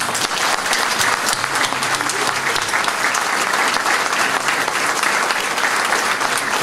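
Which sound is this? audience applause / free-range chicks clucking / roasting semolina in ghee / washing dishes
audience applause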